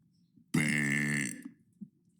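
A single loud, close belch lasting under a second, rough and voiced, followed by quiet breathing and faint small sounds.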